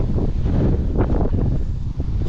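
Gusty wind buffets the microphone in a constant low roar while cutting down trees outdoors, with brief rises and dips in strength.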